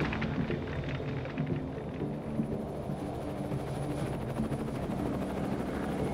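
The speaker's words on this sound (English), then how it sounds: "It's the piece of weaponry most feared by the rebels, a Soviet helicopter gunship." A Soviet helicopter gunship over Afghanistan makes a continuous, dense rotor and engine roar with a faint steady whine, heard alone at moderate distance.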